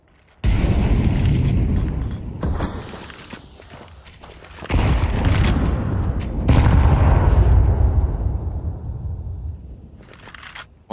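A frag grenade explodes amid gunfire in a professional Counter-Strike 2 match at the PGL Copenhagen 2024 Major, heard as several loud, heavy booms with long rumbling decays and crackling debris.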